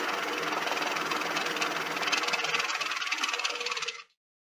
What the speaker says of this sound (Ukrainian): Не всі лічильники банкнот нормально можуть рахувати ідеально нові купюри